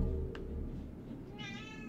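A cat meows in a room, one short faint call followed later by a longer wavering cry, both over a steady low background rumble.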